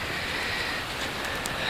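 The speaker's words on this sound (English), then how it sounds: "we got the whole rain thing going on here" Steady rain falling outdoors on a cool winter day, a dense continuous hiss with a few brief brighter patters, moderately loud and with no voices.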